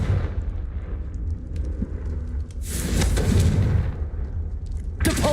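In a Harry Potter video game, the Confringo spell sets off explosions: low, rumbling booms build into a loud burst midway and another sharp blast near the end, over a constant heavy rumble.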